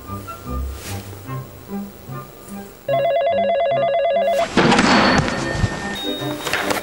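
A telephone ringing in the video game Yakuza 0, a loud repeating electronic ring that follows game music and then cuts to a burst of noisy in-game sound.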